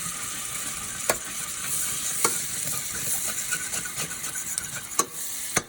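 A utensil scrapes the bottom of a frying pan while turkey cooks, under a constant sizzle. Several sharp scraping strokes stand out at irregular intervals against the steady frying hiss. Nobody speaks.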